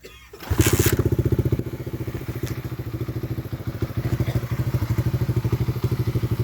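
A 1991 Honda Z50 minibike needing carburetor work fires up and idles on choke, a close, loud, steady low putter with rhythmic pulses and an initial startup clatter.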